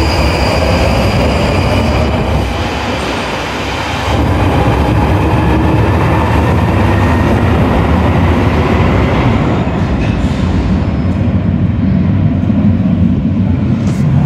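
A London Underground Northern Line train runs loud and close near Kennington, with a continuous roar of wheels and motors and rising metallic squeal toward the end, heard without speech.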